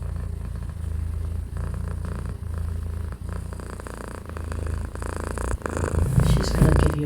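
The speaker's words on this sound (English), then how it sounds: "She's gonna give you a purr session." A cat purrs steadily with a low, continuous rumble, close up, growing a bit louder toward the end.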